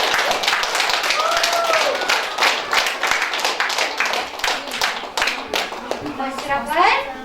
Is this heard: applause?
yes